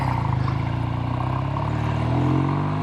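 A vintage 1969 Triumph TR6R Tiger 650 motorcycle with a pushrod overhead-valve engine and carburetors idles and revs steadily up close, a loud continuous throaty drone with a slight rise toward the end.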